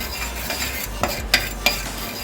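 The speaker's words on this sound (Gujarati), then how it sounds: "હવે બરાબર મિક્સ કરી લઈશું." Scraping and clinking of a spoon stirring turmeric and spices in oil in a pan, a few sharp knocks against the metal over a soft sizzle.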